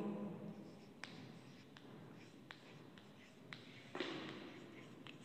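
Chalk or marker taps and strokes on a classroom board during a Hindi lesson, a handful of sharp, fairly faint contacts spaced about a second apart over low room noise.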